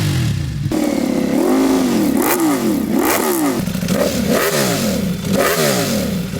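A Ducati Panigale motorcycle fitted with an Akrapovic exhaust revs hard, its loud engine note repeatedly sweeping up and dropping back in quick blips. The sound is close and sustained, with no voices.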